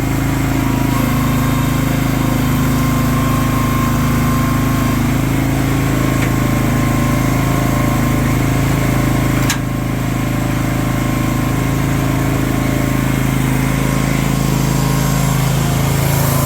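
A firewood processor's engine runs steadily and loudly throughout, a constant droning hum with no break in the sound.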